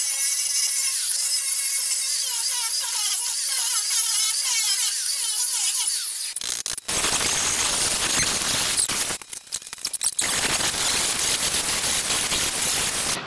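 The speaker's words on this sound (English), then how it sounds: "Let's get out the deep grinding wheel and we'll just give her." A deep grinding wheel bites into a metal vehicle frame partway through, producing a loud, harsh, rasping roar that drops out briefly a couple of times before continuing.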